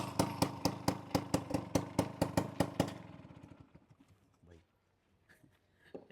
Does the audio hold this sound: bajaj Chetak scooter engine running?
yes